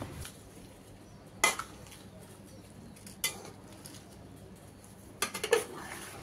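A spoon stirs tomato sauce ingredients with added salt in a pan, giving a few scattered scrapes and clinks against the metal amid quiet background.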